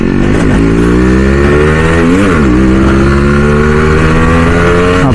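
A Yamaha RX100 two-stroke motorcycle engine revs loudly and close, holding a steady buzzing drone with a quick throttle blip and rise partway through, no talking.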